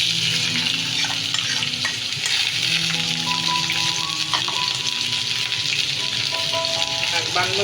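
Potato, onion and green chilies fry in hot oil in a pan, giving a steady, close, dense sizzle with faint stirring underneath and no talking.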